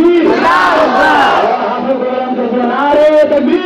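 A crowd at a religious gathering roars a takbir slogan in unison, loud and close, a sustained massed shout of many voices that swells and holds for several seconds.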